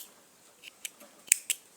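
Scissors snip through crochet yarn with a few quick, crisp clicks, close and quiet, spaced irregularly against near silence.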